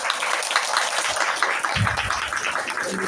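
Audience clapping at a live political talk concert in Jeju, a steady broadband patter of many hands filling the room for about three seconds with some low thumps, no speech over it.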